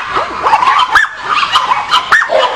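Rescued puppy-mill puppies bark, yip and whimper close by in quick, overlapping bursts, their high, loud calls filling the short stretch without pause.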